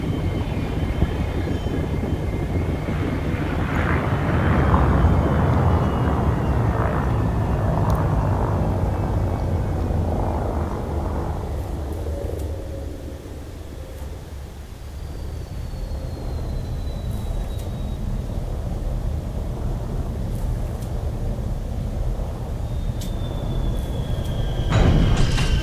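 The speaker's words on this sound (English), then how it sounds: "Drop the landing gear." Spacecraft touching down with landing gear deployed in the space game Elite Dangerous: Horizons, a loud continuous engine rumble and roar that eases briefly mid-way, with faint high whines and clicks over the top.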